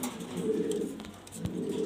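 Jalna shooting pigeons coo in soft, low, repeated calls, close and fairly quiet with faint background noise.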